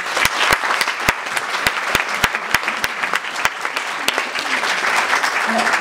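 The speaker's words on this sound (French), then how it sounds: "on peut encore l'applaudir," An audience at an academic event gives warm, sustained applause, dense and fairly close, with a few sharp individual claps standing out above the crowd.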